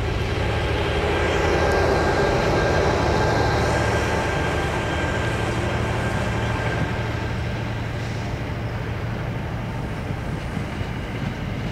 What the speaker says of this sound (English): Here comes now an eastbound train while the westbound train leaves.